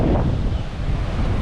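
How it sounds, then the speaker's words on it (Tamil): Sea waves roll onto a Chennai beach, a loud, continuous surf roar mixed with heavy wind buffeting the microphone, no voices. "இந்த மாதிரி கடல் அலையை வந்து ரசிக்கலாம்."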